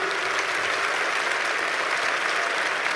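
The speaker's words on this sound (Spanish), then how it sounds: "Aplaudan, hombres, las mujeres no necesitan aplaudir." Steady, dense applause from a crowd, continuous and even throughout, with no breaks.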